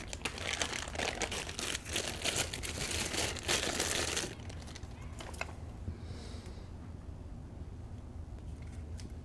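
Plastic and paper packaging of a new radar detector being unwrapped close by, with busy crinkling and rustling for about four seconds, then scattered quieter handling sounds.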